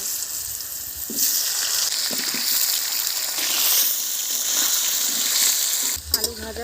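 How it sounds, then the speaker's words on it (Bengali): Potatoes fry in hot oil in a pan, a loud, even sizzle with brief stirring scrapes and a metallic clatter near the end. "এবারে আমি আলুগুলোকে ভেজে তুলে নেব"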